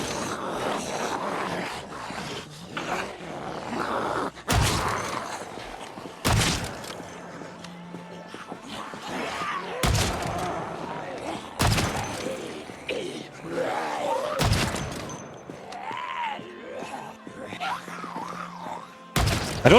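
Gunshots in the zombie survival game Project Zomboid, a handful of sharp, loud reports spaced several seconds apart over a busy bed of game sound and murmuring voices.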